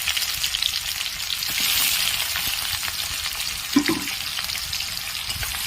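Chopped onions frying in hot oil in a pan for mutton curry, a steady close hissing sizzle throughout with a brief scrape of stirring partway through and no speech.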